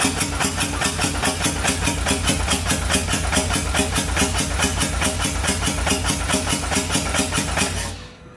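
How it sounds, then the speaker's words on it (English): A motor being primed runs with a loud, rapid, even chugging pulse that holds steady for several seconds, then cuts off abruptly near the end, with no voices. "This is what we call priming the motor."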